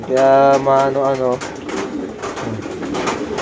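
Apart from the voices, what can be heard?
pigeons cooing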